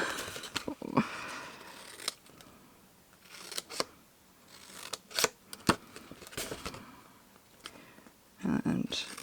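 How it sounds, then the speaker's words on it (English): Sharp paper snips cutting around a sheet of patterned Stampin' Up! cardstock, giving a run of crisp, close snipping clicks and rustles at an irregular pace. "Paper snips are super sharp."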